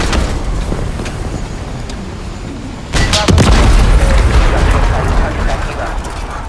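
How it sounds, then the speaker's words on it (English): A loud explosion in the Call of Duty MW3 campaign hits abruptly partway through, a deep booming blast with rumbling debris that sustains over battlefield noise, with dialogue heard before it. "The explosion got Coney's attention."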